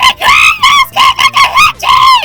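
A woman screams angrily in a cartoon voice-acting scene: a series of loud, shrill, wavering shrieks in quick bursts, close and harsh, like honking cries, with nothing else underneath.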